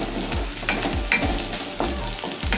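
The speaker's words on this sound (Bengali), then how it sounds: "পেঁয়াজ এবং লঙ্কার এই পেস্টটিকে আমরা ভালো করে কষিয়ে নেব প্রথমে।" Onion and chili paste fries in hot oil with whole spices while a spoon stirs and scrapes the pan in steady, rhythmic strokes over a continuous close sizzle.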